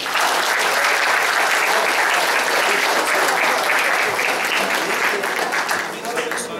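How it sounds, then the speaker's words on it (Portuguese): A church congregation claps in loud, dense, steady applause that fills the whole stretch, easing slightly near the end, with voices mixed into the crowd noise. "Vamos dar uma salva de palmas."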